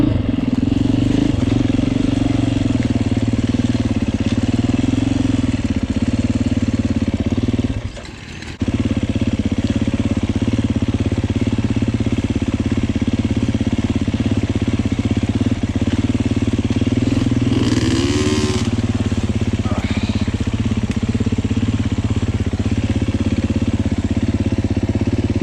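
A 2024 Beta 390 Race Edition motorcycle rides a wet trail, its engine droning steadily and close for the whole stretch, with one brief dip in the middle and some faint clatter.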